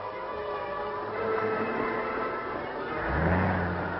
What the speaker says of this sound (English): Our car's running wild.